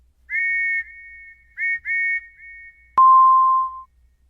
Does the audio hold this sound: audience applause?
no